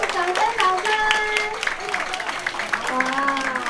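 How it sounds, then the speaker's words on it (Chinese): A concert crowd at a year-end folk song show gives applause welcoming a saxophone ensemble, a continuous rustling clatter of hands running under a loud voice speaking and calling out over it. "掌声，掌声！"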